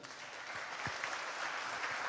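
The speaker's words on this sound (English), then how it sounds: "big round of applause for them" An audience at a fieldwork conference applauds its organizers; the clapping is faint and distant-sounding, a soft, continuous patter that holds steady throughout.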